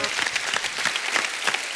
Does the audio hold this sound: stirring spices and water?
no